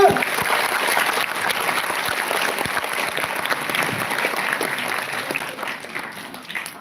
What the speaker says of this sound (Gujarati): તો સર માટે એક જોરદાર તાળી થઈ છે.